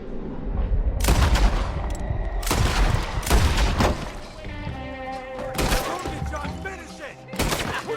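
Guns fire in a Red Dead Redemption 2 shootout: loud, sharp cracks and booms in bursts and scattered single shots, some ringing out with echoing tails, mixed with game voices.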